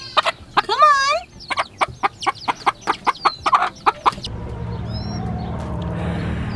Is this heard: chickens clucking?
yes